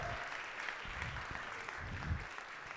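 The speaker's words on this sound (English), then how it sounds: "1, 2, 3, round of applause for the crew." An audience at a live mastermind event applauds the crew, a continuous moderate clapping crowd heard somewhat distant, with a few low thumps mixed in and voices faintly underneath.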